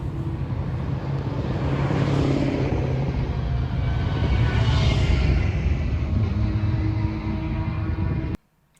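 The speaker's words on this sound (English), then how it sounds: "Here we see a Mustang and a Porsche coming into the pits." Mustang and Porsche race cars roll into the pits during a track day in Utah, with a loud, steady engine rumble and road roar that holds for about eight seconds before cutting off abruptly.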